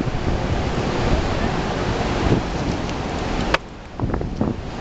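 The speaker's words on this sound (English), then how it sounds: "We're in 100-mile-an-hour winds." Strong wind roars about twenty stories up on a high-rise building during window cleaning, a dense continuous rush with gusty buffeting against the microphone, then a sudden brief drop before the roar resumes.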